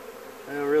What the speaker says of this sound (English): What am I going to do with all these bees?